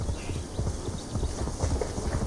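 A horse's hooves clip-clop in Assassin's Creed Valhalla, a quick steady trotting rhythm over a dense game background, close and continuous with no speech.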